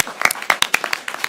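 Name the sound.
audience applause at a board meeting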